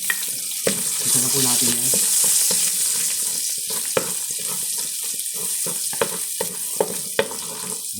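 Garlic hits hot frying oil and sizzles with a steady, close hiss, spattering with sharp pops and clicks, while a voice speaks briefly over it.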